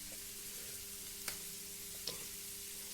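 Sliced onion frying in coconut oil for dum biryani, a faint steady sizzle over a low hum, with two brief clinks of a utensil.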